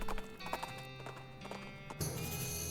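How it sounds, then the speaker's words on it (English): A horse in the West of Loathing video game clip-clops in a steady, brisk rhythm of hoof taps over a bed of twangy Western background music, fairly quiet overall. "listen to my goofy horse"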